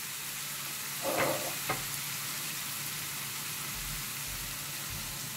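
Minced meat frying in a pan for a layered menemen gives a steady, soft sizzle throughout, with a couple of brief louder crackles near the start and no voices.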